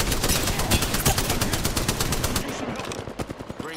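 Rapid bursts of automatic gunfire from the video game Apex Legends, loud and dense at first, then thinning into spaced individual shots near the end.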